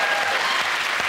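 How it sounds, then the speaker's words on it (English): A studio audience at a comedy panel show applauds in a dense, steady wash of many hands clapping at once, loud and continuous throughout. "He started a spontaneous round of applause."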